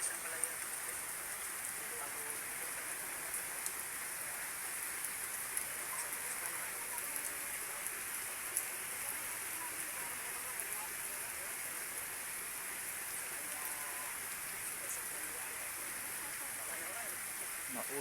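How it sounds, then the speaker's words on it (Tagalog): Steady rain falls on a house under construction in a neighbourhood, an even unbroken hiss of drops on surfaces that holds at the same level throughout. "Inuulan na yung bahay nilang ginagawa."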